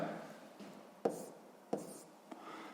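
A pen writes a letter into a table in a maths exercise, three or four short scratchy strokes, close and faint, in quiet surroundings.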